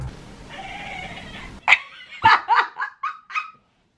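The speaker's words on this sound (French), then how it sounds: "Il y a moyen que vous entendiez Moug miauler parce qu'elle est dans la même pièce" A pet cat named Moug meows repeatedly in the same room, a series of five or six short, close, fairly loud calls in quick succession after a brief bit of background noise.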